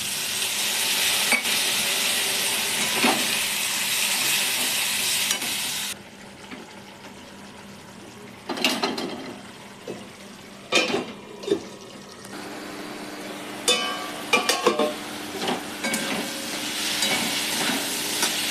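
Onion, green chili and tomato sautéing in a pan for a Bengali mourala fish curry, with a steady close sizzle that later breaks into bursts of stirring and scraping.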